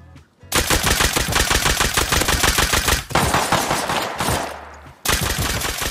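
Rapid, loud gunfire from a double-barrel gun in a survival shooter video game, bursts of closely spaced shots filling the clip with brief pauses between volleys.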